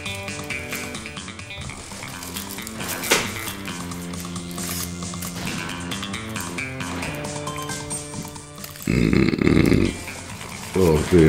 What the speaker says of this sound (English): oh, I've got this fizzy burps.